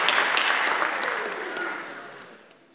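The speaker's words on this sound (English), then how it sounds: "I want to give a round of applause to all of you for coming out this evening" Loud applause from a crowd, dense clapping that gradually fades out over a few seconds.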